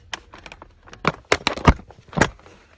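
A Jane baby car seat clicking into its base inside a car, several sharp close plastic clicks and clunks in quick irregular succession, loud and alone.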